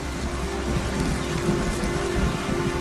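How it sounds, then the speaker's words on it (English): Steady rain pouring down as a shower begins, a dense, even hiss that stays constant and fairly close throughout, with no voices. "It's starting to rain."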